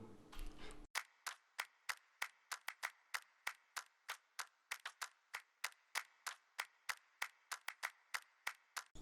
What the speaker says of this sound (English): There is a clap that goes like... claps from right to left with this automation.